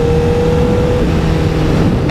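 A 2018 Honda CBR 1000RR Fireblade motorcycle engine runs loud and close, holding a steady drone before a quick rising rev near the end.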